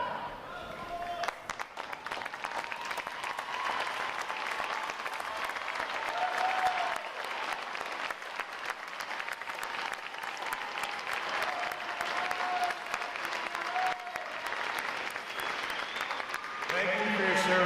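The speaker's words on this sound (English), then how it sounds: "Would all our veterans please stand so we give you a round of applause?" An audience at a Navy boot camp graduation applauds veterans with long, continuous clapping, a broad, steady wash of many hands in a large venue, with faint voices mixed in.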